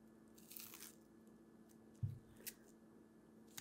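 A thin, crispy, freshly baked cookie is snapped, then bitten with a sharp close crunch followed by a smaller crunch, set against a quiet room hum with faint rustling earlier.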